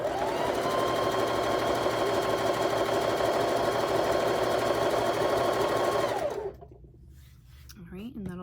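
A sewing machine stitches cat-themed quilt blocks in one continuous, close, rapid humming run of about six seconds, then halts, leaving quieter handling sounds and a soft voice.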